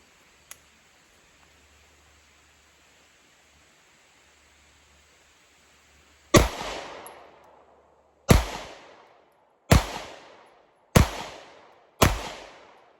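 Five loud pistol shots from a Staccato C2 DPO fired at a 10-yard target, spaced roughly one to two seconds apart after several seconds of near silence, each with a sharp crack and a fading echo.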